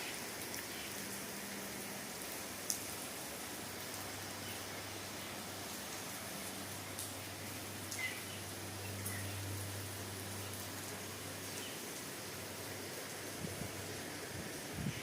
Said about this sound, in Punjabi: ਬਾਰਿਸ਼ ਦਾ ਆਨੰਦ ਲੈ ਰਹੇ